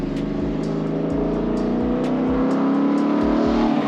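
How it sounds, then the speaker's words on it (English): Mustang GT converted to a Shelby GT500 revving hard under acceleration, a loud close engine roar with a series of sharp rhythmic pops and backfires cracking through it. "That backfire's nice."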